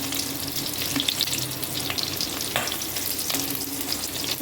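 Curry leaves and slit green chillies hit hot oil with mustard seeds for a tempering, giving a steady, close sizzle and crackle with a few sharper pops, no voices.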